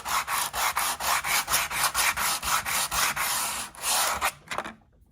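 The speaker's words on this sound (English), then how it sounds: "2 or 3 different types of sandpaper. And you just start working on it like that." Sandpaper worked by hand across a wooden printer's case, an old display case for toy cars under restoration, makes steady rhythmic rasping strokes, about a dozen loud close passes, which stop abruptly near the end. No voices.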